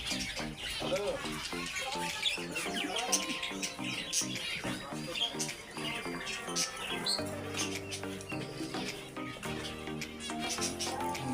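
Quail and other caged birds chirp and tweet busily at a pet market in Kuwait, a dense overlapping chatter of calls with a voice or two faintly in the mix.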